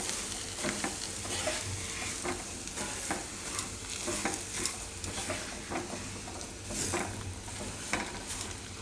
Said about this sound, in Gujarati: આ રીતે સૂજી મિક્સ કરતા હું.